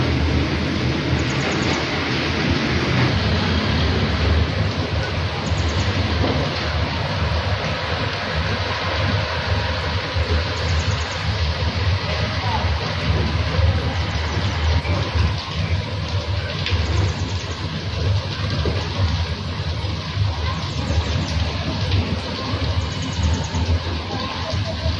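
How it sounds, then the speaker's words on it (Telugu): Rain falling outside, a dense, steady broadband wash holding at constant loudness throughout, with no clear voices over it. "వర్షం పడుతుంది కదా"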